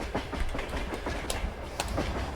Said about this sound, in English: This train was going past right as we were jumping into that thing